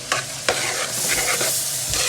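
Red beans fry in a pot with a continuous close sizzle, punctuated by a couple of sharp spoon scrapes as they are stirred.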